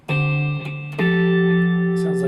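An electric guitar fill, played as in the studio recording, with two long sustained, effect-coloured notes that shift pitch about a second in and ring on steadily and loud, with no voice over them.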